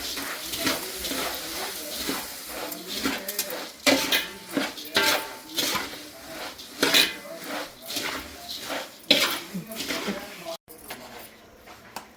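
Puffed rice is poured into a metal vessel with dry, rattling crackles and clinks in uneven bursts, while a person talks over it.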